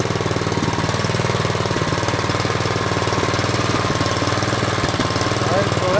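Troy-Bilt Storm 2840 snow blower engine running steadily at close range, a loud, even, rapid mechanical chugging that holds without pause.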